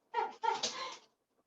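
A dog lets out a short, nasal whimper in two quick breaths, close and fairly clear in a quiet room, ending abruptly.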